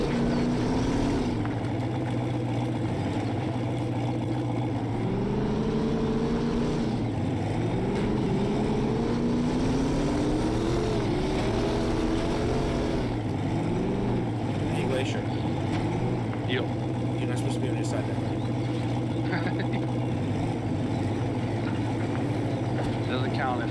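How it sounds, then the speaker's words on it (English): A Jeep driving through a river, its engine droning loudly and steadily as the revs rise and fall in sweeping pitch changes, with a rushing wash of water throughout. "You're just driving through the damn river."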